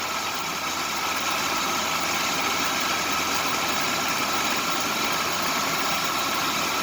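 A car engine idling while still not warm, a steady even drone that holds constant and close throughout, alone with no talking.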